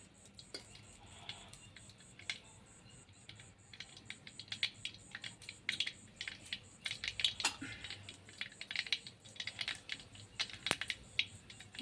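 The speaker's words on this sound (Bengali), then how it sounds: "দেখুন গাইস সর্ষেটা কেমন ফুটছে" Mustard seeds crackle in hot oil as a tempering for a Gujarati dish. The pops are faint, rapid and irregular, like scattered ticks over a quiet background.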